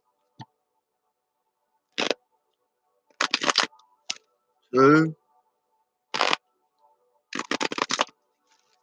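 Tarot cards shuffled in short crisp riffle bursts, several separate shuffles with pauses between, close by, with a voice counting between them.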